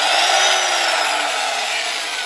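A 1978 Elektronarzędzi Drezno SRBs 6 electric screwdriver motor runs steadily with a high, whining hum that holds throughout, loud and close with no voices.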